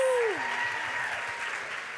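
Audience applause at a girls' school assembly for award recipients, a steady wash of clapping with a tonal sweep at the start and faint voices underneath.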